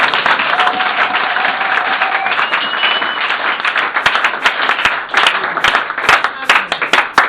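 A church congregation applauding and cheering, a dense steady wash of clapping that turns into louder, more distinct claps near the end, with voices mixed in.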